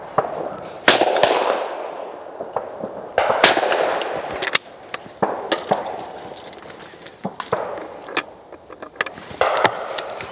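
Ladies SPZ shotgun with a Monte Carlo stock fired at clay targets outdoors, several sharp loud shots spaced a few seconds apart, each with a rolling echo trailing off.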